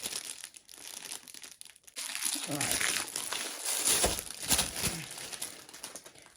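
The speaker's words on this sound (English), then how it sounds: "Big old plastic bag, innit?" A big plastic bag crinkles and rustles up close during a diamond painting kit unboxing, with broadband crackling bursts running through most of the clip and brief speech over it.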